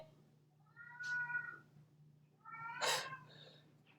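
A cartoon cat lets out two drawn-out, whiny meows about a second and a half apart, fairly clear against a low background hum, the second louder and ending in a sharper burst.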